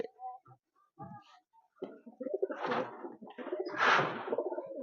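Pigeons, including quality fancy breeds, cooing in a loft: soft low coos, faint at first, then louder, rougher bursts with a breathy flutter near the end.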